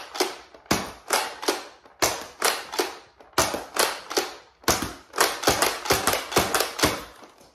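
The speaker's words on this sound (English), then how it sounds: "I'm gonna do 4 darts normally and then 4 darts with slam fire" A Nerf Dragon Power Emberstrike blaster fires darts, first as four evenly spaced sharp snapping shots, then four more in a quicker slam-fire burst, each a close, loud crack with a short decay and no voices.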